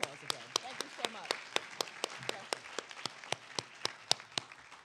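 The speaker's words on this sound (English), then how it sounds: "Let's give him a round of applause again." Congregation at a Baptist church service applauding, a fairly quiet patter of scattered claps with a few sharp nearby claps, under soft background voices.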